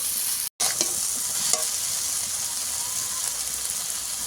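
Water spinach is stir-fried with masala in a pan, producing a loud, continuous close sizzle with occasional stirring scrapes and one brief drop-out near the start, no voices heard.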